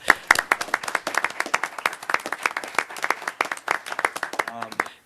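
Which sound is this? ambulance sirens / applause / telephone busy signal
applause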